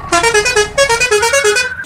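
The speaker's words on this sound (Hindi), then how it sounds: "साथ ही साथ हॉर्न भी कम्प्लीटली रियल इंडियन हॉर्न" Indian-style bus horn in an Android bus simulator game, a loud musical multi-tone blare repeating in a quick rising and falling melodic pattern, close and alone.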